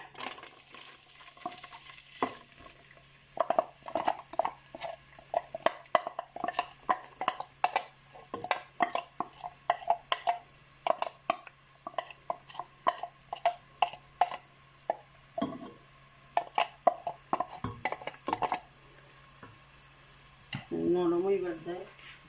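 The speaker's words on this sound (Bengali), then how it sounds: "দুই চামচ সাদা তেল তেল গরম হয়ে গেছে আমি আমি পেঁয়াজ দিলাম" Onions dropped into hot white oil for a papaya and magur fish curry, sizzling and frying with frequent clattering stirs and pan knocks, a voice speaking at times over the cooking.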